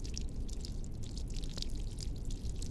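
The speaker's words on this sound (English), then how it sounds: "Oh, I hear water." Water dripping inside a train in the horror game Shinkansen 0, a faint scattering of small irregular drips over a low rumbling hum, continuous and without any speech.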